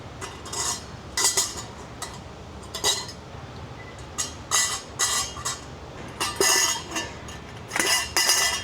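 Raw potato pieces are packed by hand into glass canning jars for pressure canning, giving irregular clinks and knocks of glass and utensils in quick, uneven bursts, fairly close and without talk.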